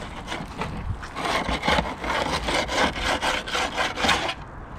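A knife slides repeatedly through a flathead fish during filleting, giving close, steady rasping strokes in a fairly even rhythm, loud and unbroken by talk.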